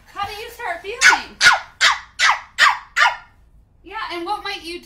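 A person mimics a dog barking, a run of about six sharp, evenly spaced barks up close, with talking before and after.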